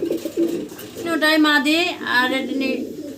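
A running pigeon coos close by on a pigeon farm, a soft throaty warble rising and falling over a few seconds.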